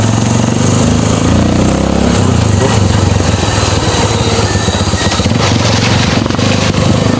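A small engine drones steadily and loudly up close, with a rough, rattling buzz throughout, like a motorbike running at steady speed.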